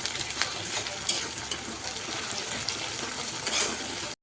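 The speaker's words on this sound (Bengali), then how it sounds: "এই যে এখানে আমরা ভালো করে নাড়বো।" Ginger, chili and tomato stirred as they fry in a hot pan: a steady bright sizzle with occasional scraping stir strokes, close and loud, ending abruptly.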